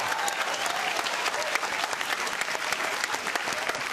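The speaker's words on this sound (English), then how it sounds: "Billy, thanks so much for coming on the show, and a round of applause." A studio audience applauds a guest on a television show, a dense, even wash of many clapping hands that runs steadily for four seconds at a moderate level with no talk over it.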